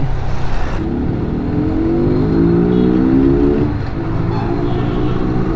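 Yamaha R15 V3 motorcycle fitted with a K&N air filter, its engine rising in pitch over a couple of seconds, then easing off, loud and close amid steady road noise.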